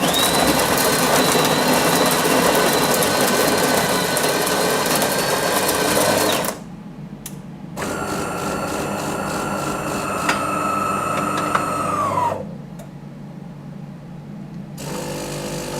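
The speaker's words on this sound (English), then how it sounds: "So we want to just push on the coffee, and let's make a coffee." A De'Longhi Magnifica Evo coffee machine grinds and brews with a loud steady mechanical whir, a short pause, then a rising pump hum that cuts off and leaves quieter dripping.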